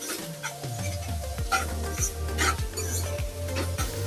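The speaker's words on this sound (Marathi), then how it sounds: "मी आता त्याच्यामध्ये कांदा सोडते आता कांद्याला चांगला लाल होऊ द्यायचा हिरवत राहायचं" Onion sizzles steadily in hot oil with cumin in a pan for pithla, a constant close frying hiss broken by regular scraping stirs about every half second.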